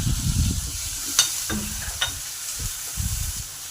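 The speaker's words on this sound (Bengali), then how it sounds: "টমেটোটাকে ভালো করে 2 মিনিট নেড়ে নেবো" Chopped tomatoes being stirred into onions already fried until reddish in a pan, with a soft sizzle under irregular scraping strokes and a few sharp clinks of a spatula on metal.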